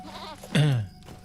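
A goat mount in Lord of the Rings Online lets out a single loud, wavering bleat. A softer bleat comes before it and a brief clatter follows, all close up and without speech.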